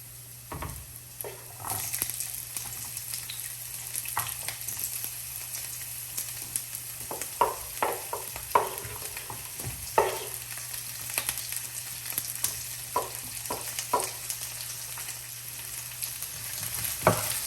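Garlic and onion sizzle steadily in hot oil in a pot, with a constant crackling fry broken by scraping and clinking of a utensil stirring, close and alone with no talk.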